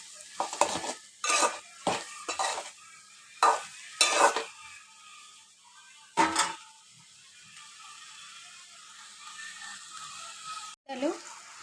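Onions frying in a pan with a little salt, heard as a series of sharp scraping stirs in irregular bursts, separated by quieter stretches of faint sizzling.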